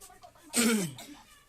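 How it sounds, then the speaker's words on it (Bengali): A single short, harsh cough bursts out from someone with an irritated, tickly throat indoors, close and fairly loud against quiet room tone. "আর গলায় তো খুশখুশানি তো কমছেই না সেই তো কাশি কাশি ভাব"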